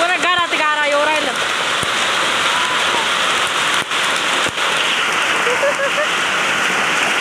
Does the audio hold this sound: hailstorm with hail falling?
yes